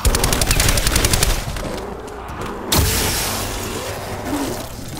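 Video game gunfire from Call of Duty: Black Ops 4, with a rapid burst of automatic shots, a pause, then a single sharp blast that fades out.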